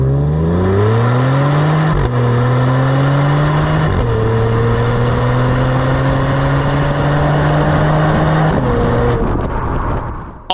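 A 3.3-liter twin-turbo V6 in a 2022 Genesis G70 accelerates hard through several gears, its loud, close engine note climbing in pitch with brief dips at each shift, then easing off near the end.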